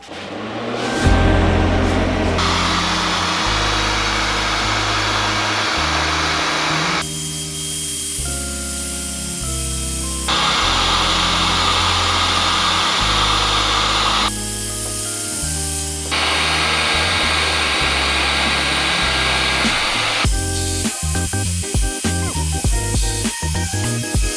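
Forced-air blower drying the rear windshield of a 2014 Toyota Corolla, a loud steady broadband rush that runs the whole time with abrupt shifts in pitch and intensity, and no talking.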